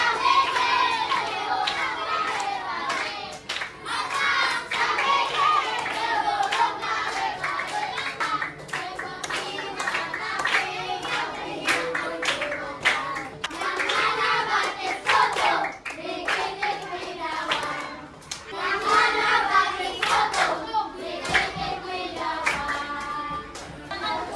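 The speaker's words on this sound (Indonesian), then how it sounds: "Ayo berdiri tepuk tangan" Elementary school students in an Indonesian classroom clap along while singing the song Ampar-Ampar Pisang, with quick, lively hand claps running nearly nonstop under the children's voices.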